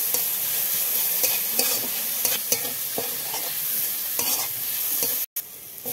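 Chopped ginger, garlic and green chili fry in a pan, a continuous close sizzle broken by repeated scraping stirs at an even rhythm, with a brief dropout near the end; no voices.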